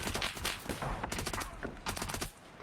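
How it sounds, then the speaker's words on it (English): Dense, loud gunfire in a competitive first-person shooter match, with rapid overlapping shots and bursts that run almost continuously before easing off. "Vons are under fire straight away."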